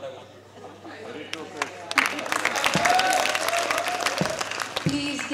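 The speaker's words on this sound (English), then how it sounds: "Please give these contenders a huge round of applause for their wonderful answers." An audience at a school farewell event applauds, the clapping swelling into a dense, sustained round with scattered cheers over a steady background hum.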